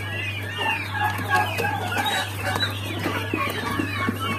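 Several turkeys gobble and cluck at close range, with a steady low hum running underneath.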